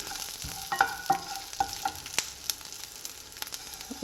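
Sesame seeds and fresh coriander leaves frying in a pan on low flame for coriander puliyogare, a soft continuous sizzle with a few sharp scraping stir strokes, close and fairly quiet with no voices.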